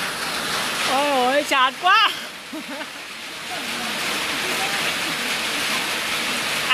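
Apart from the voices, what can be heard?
rain falling at a fishing pond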